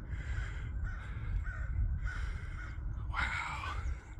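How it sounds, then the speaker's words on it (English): Crows chasing a hawk in the open sky give several loud, harsh caws in irregular bursts, moderately close against a low outdoor rumble. "The crows are chasing about a chicken hawk I can see."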